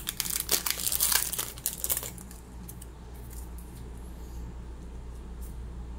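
Foil Pokemon trading card booster packs, Sun and Moon era, crinkle sharply in bursts for about two seconds while being torn open, then fade to quieter rustling and a low background hum.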